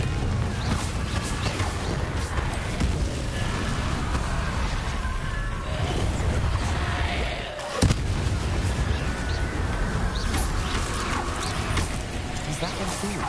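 Confringo fire spells burst in the Hogwarts Legacy video game, mixed with Incendio flames: a constant barrage of booming, crackling explosions and rumbling fire, with one sharp louder blast partway through.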